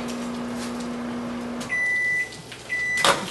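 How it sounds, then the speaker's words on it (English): A microwave oven heating grits hums steadily, then stops. A few short beeps follow, and the door clicks open. "we're down to our last 12 seconds on the microwave with our grits inside the microwave"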